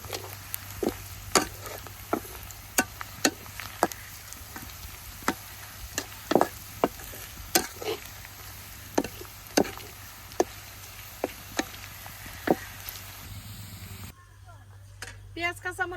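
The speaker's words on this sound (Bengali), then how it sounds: "পেঁয়াজ কাঁচামরিচ খুব ভালোভাবে ভেজে নিছেন" Onions and green chilies sizzling in a pan with a constant frying hiss, broken by regular sharp knocks of a spoon stirring against the pan, before the sizzle suddenly drops away near the end.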